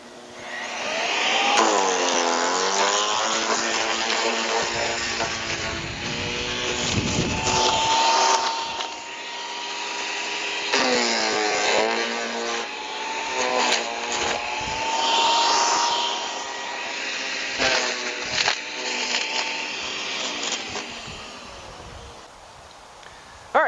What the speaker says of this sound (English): If you got a wood chipper, it's a fantastic thing to do.